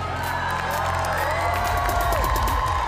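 Dense crowd of roughly 2000 spectators before a show cheering and whooping steadily, loud and close, a continuous roar with scattered shouts rising throughout.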